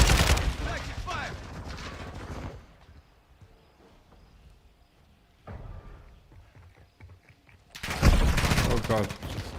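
Gunfire in the video game Call of Duty Modern Warfare II, a loud close burst of automatic fire, then quieter distant shots and a voice, ending in another sharp, loud burst.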